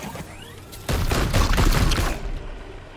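Gunfire rings out in the video game Chaos Gate: Daemonhunters, a loud rapid burst of shots lasting about a second that trails off into a fading echo.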